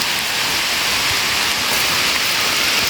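Steady heavy rain pours down outdoors in a Thai mushroom-foraging area, a dense, continuous hiss close around with no pauses and no voices.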